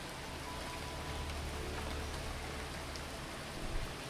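Rain falls steadily in a video game, a dense, even hiss of drops on surfaces that holds at constant moderate level throughout, with no voices.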